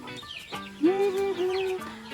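Chickens clucking in short, throaty bursts close by, with a few rising and falling calls running together against a quiet outdoor background.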